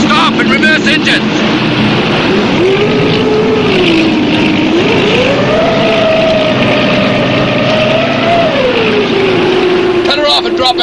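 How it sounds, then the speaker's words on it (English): A loud, steady boat engine drones throughout, its pitch rising and falling as the engines stop and reverse, with voices faintly underneath. "Stop and reverse engines."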